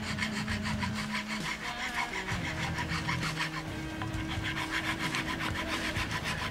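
Steady, rhythmic scraping of a flat metal file crowning the frets of a Mexican Fender Stratocaster, repeated strokes close up with no talking.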